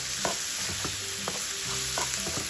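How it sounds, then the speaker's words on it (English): Creamy spaghetti sauce is stirred in a pan, with a soft sizzle underneath and a few scraping strokes of the utensil, close and unaccompanied by talk. "I'm gonna stir all this up and then add some garlic once it browns a bit"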